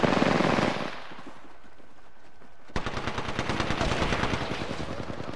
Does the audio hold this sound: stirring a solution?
no